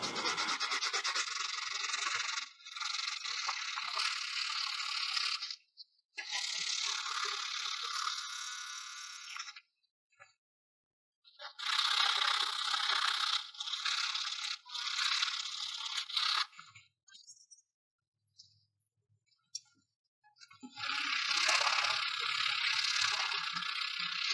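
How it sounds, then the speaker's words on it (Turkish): Sandpaper rubs back and forth by hand over a wooden traditional Turkish archery piece in long steady bursts, a harsh scratchy hiss broken by brief pauses. "Bu kadar uzun elde zımparalanıyor."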